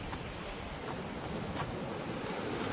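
Sea waves washing over a rocky Konkan shore as the tide rises, a steady broadband surf wash with faint wind, continuous and fairly distant, with no voices.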